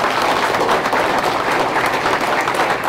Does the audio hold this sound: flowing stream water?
no